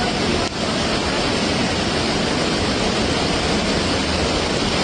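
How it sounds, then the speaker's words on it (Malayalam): Heavy rain and rushing floodwater during a Kerala downpour, a loud, dense and unbroken roar of water that fills the whole clip with no voices. "മഴയും വെള്ളത്തിൻ്റെ ശബ്ദമൊക്കെ ആയതുകൊണ്ട് നമ്മൾ വോയിസ് ഒന്നും അത് അധികം ക്ലിയർ ആയിട്ടുണ്ടാവില്ല"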